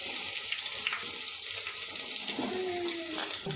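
Finely chopped onions deep fry in hot oil for chicken gravy, a constant close bubbling sizzle with a few clinks and scrapes of utensils partway through.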